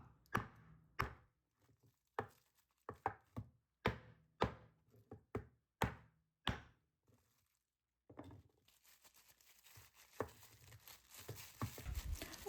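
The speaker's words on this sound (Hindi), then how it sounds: "एक बेलना लें या कोई थोड़ी लें और उसके साथ इसको कुट के तो छोटे-छोटे पीस कर लें।" A rolling pin pounds a bag of frozen green chutney into small pieces, giving a series of sharp, separate thuds in an uneven rhythm, followed by quieter crinkling and shuffling of the bag.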